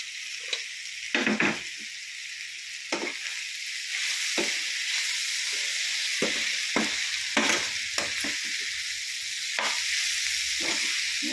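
Cooked rabbit meat is tossed into a hot oiled pan and stir-fried, a steady close sizzle broken by a dozen or so sharp scraping stirs at irregular intervals, with no voices.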